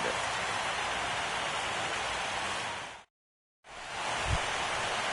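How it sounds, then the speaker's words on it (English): Steady rain pours over a baseball stadium during a Diamondbacks and Giants game, a dense, even hiss that cuts out briefly to silence before resuming at the same level. "the rain continues to fall here"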